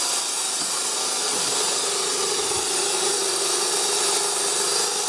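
A Sanden compressor runs on a variable frequency drive at about 90 hertz, giving a loud, steady, harsh whirring drone that holds constant without pauses.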